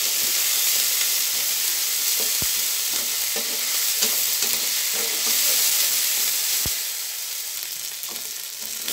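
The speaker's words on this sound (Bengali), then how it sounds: "এবার আমি মশলাটা ভেজে নেব" Ground spice paste of cumin, ginger and garlic frying in a pan, a loud continuous sizzle and hiss with occasional scraping knocks from stirring, close and unbroken by speech.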